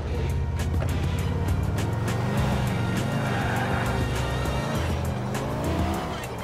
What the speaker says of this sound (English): Nico, you're driving us to a hardware store on Dillon Street.